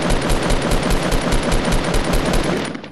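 Rapid automatic gunfire in Fortnite: a dense, loud stream of about a dozen evenly spaced shots per second, continuing for nearly three seconds with no talk.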